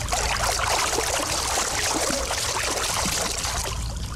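Muffled underwater rumble of a swimming pool, a steady dense wash of water noise with no clear breaks, filling the whole stretch at an even loudness.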